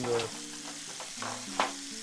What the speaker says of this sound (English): I'm just gonna sear it like a steak on each side for probably no more than probably 1 or 2 minutes